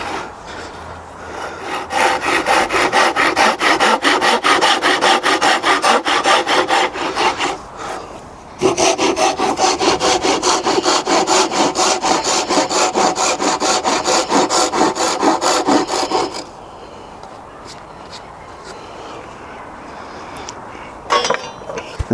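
A Japanese ryoba pull saw rasps steadily through wood, trimming a curved cut with fast, even back-and-forth strokes, loud and close, pausing briefly midway before a second long run, then easing to quieter scraping.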